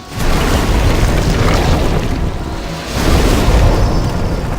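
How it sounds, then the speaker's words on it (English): Fire bombs bursting in Demon's Souls at the Boletarian Palace, heavy rumbling booms that swell and fade in two long waves, loud and dense with no talking. "all I'm going to be doing is throwing all the fire bombs I have"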